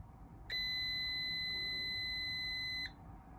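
A multimeter's continuity beep sounds while a drill cord's wire is tested: one steady, loud electronic tone lasting a little over two seconds, then cutting off, with no voices.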